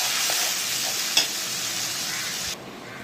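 Turmeric powder and masala spices fry in hot oil in a pan, a continuous close sizzle with a stirring scrape partway through before the sizzle drops quieter.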